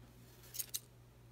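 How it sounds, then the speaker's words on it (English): Scissors snip twice, quick and close, through yarn loops to make puppet hair, two crisp metallic cuts over a faint steady hum. "you're gonna take your scissors, you're gonna find those loops you made, and you're just gonna cut through those loops"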